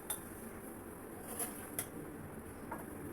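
A few light, scattered clinks of a bowl and utensils as fried beef brain is served, faint and sparse over a quiet room.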